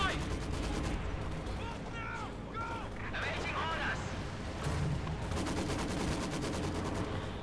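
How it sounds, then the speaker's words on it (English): Incendiary mortar rounds firing and bursting in a Company of Heroes 2 2v2 match on a WWII battlefield, heard as dense repeated booms and crackles in a continuous loud battle din with someone commentating over it. "incendiary mortar round"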